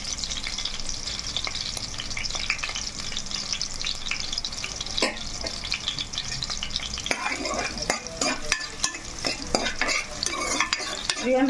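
Pieces of mutton fry in hot oil in a pan and are stirred, giving a low steady sizzle under scraping and clinking of a spoon against the pan, which turns busier and louder toward the end.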